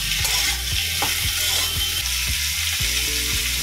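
Tomato and salt stirred into a hot frying pan while cooking Bengali ridge gourd and potato with poppy seed: a steady, close sizzle with soft, regular scraping knocks from the stirring.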